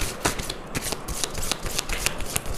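Tarot cards being shuffled by hand, a quick run of crisp riffling flicks and soft slaps repeating steadily for a couple of seconds, close and fairly loud, with no talking.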